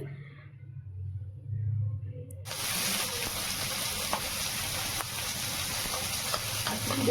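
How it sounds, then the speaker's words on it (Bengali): Fish frying in a pan in a home kitchen, a quiet low hum first, then a loud, steady, dense sizzle that continues to the end with faint stirring clicks. "মা মাছগুলো ভেজে নিচ্ছে"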